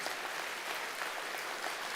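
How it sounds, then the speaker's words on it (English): An audience at a bank employees' union conference applauds, a dense, steady patter of many hands clapping at moderate volume for the full two seconds. "Please give with clapping, you approve that"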